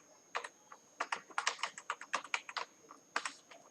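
Soft, close typing on a computer keyboard as folder names are entered, with quick irregular clusters of light key clicks and short pauses, heard alone without talk.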